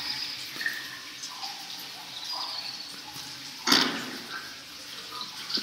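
Running shower water in the video game ShowerGame, a steady soft hiss with light splashing and one sharper splash near the middle, heard alone.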